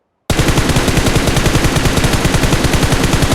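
PUBG Mobile gunfire bursts suddenly from silence into a loud, sustained automatic volley of rapid, evenly spaced shots that continues to the end.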